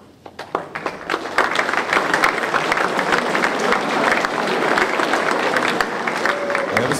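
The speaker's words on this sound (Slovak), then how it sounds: "Alebo prosím, nejaký potlesk pre nich." An audience at a Slovak panel discussion on web application vulnerabilities applauds the organizers, the clapping building quickly from a few hands into steady, sustained applause of moderate loudness.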